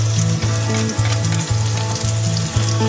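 Ginger and chili frying in a pan give a loud, continuous close sizzle, joined by a steady pulsing mechanical hum that repeats throughout, with no voices.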